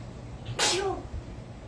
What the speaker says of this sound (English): You can't be standing here sneezing everywhere